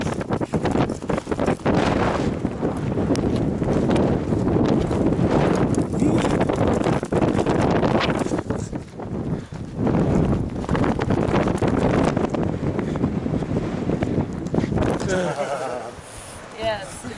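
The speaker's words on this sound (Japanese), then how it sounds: "吹雪が押し寄せてきてます。" A blizzard sweeps over a camp on Aconcagua, with loud, gusting wind roaring against the microphone almost nonstop and rustling and footsteps mixed in, easing slightly near the end.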